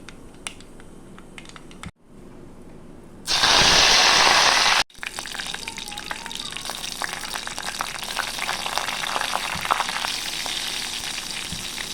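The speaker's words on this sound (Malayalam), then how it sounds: "നമുക്ക് കറിവേപ്പിലയും പച്ചമുളകും ഇടാം." Curry leaves and green chillies drop into hot oil where mustard seeds are already spluttering, giving a loud burst of sizzling that settles into steady close frying with crackles, alone without talk.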